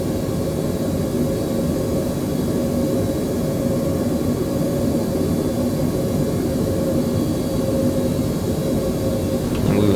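A Boeing 777 jet roars through its takeoff in a flight simulator game, a steady, loud broadband engine rumble with a constant whine on top and no talking.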